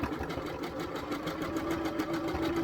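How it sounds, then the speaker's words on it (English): A domestic sewing machine runs a zigzag stitch along a doll dress seam, humming steadily and continuously at close range with a fast mechanical rhythm and no talk. "we're going to sew above the stitch line in a zigzag motion"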